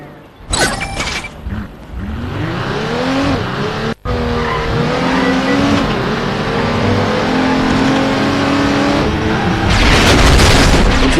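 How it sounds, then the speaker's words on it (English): Car engines rev and accelerate through city traffic in a video game, loud and close, with tire squeals, a sharp boom near the start and continuous engine roar throughout. "Oh, the traffic in this city's moving."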